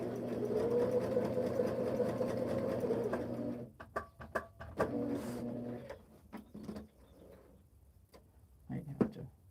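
Singer Featherweight sewing machine stitching fabric hexies: a steady, close mechanical whir for about three and a half seconds, then stops and starts with short bursts, clicks and handling noises.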